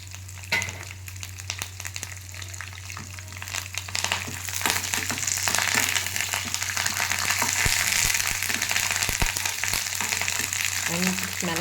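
Chana dal, peanuts, mustard seeds and a little fenugreek frying in hot oil, a dense crackling sizzle that builds and holds steady, close by, with occasional stirring clicks.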